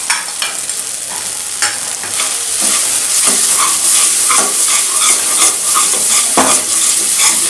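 Ground turmeric, chilli, coriander and cumin fry loudly in a pan for potol dorma, a dense crackling sizzle broken by repeated scraping stirs and clinks of the spatula, close and with no talking.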